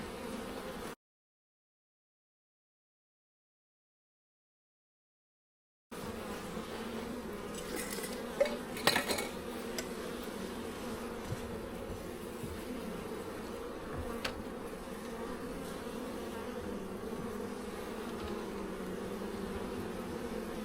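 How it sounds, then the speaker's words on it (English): Honeybees buzz inside an open hive during an inspection, a steady dense hum that stays faint and even throughout. It stops for a silent gap early on and then resumes with a few brief louder knocks. "There's definitely more bees in here than when we put it in a week ago."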